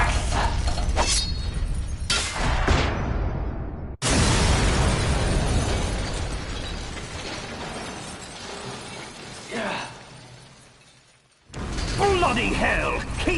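The Ray Dome is blown apart in Metal Gear Solid, a loud shattering explosion with crashing debris, then a second heavy blast after a brief lull, amid dramatic voices.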